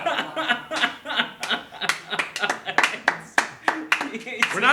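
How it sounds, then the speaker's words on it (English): A studio audience at a Christmas comedy special claps in uneven bursts and chuckles, with scattered laughter rising and falling at close range. "We're applauding your perseverance."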